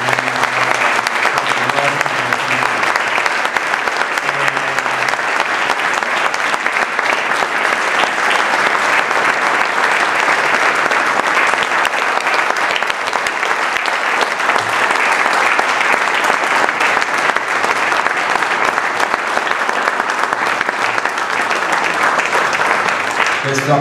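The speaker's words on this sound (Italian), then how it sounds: "Questo applauso lungo è significativo" A long round of audience applause at an award ceremony, the Premio Giuseppe Fava: dense, loud, sustained clapping from a large crowd, rolling on evenly for over twenty seconds with a faint voice underneath at the start.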